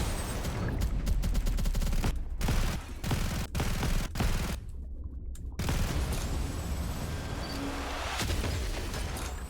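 Heavy video game gunfire in rapid bursts, loud and close, with repeated shots and brief gaps, plus a short sharp boom partway through.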